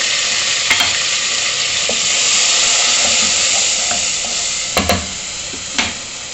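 Ginger garlic paste with coriander powder frying in hot oil for Kashmiri rajma, a steady loud sizzle with a few sharp clanks of a spoon against the pan.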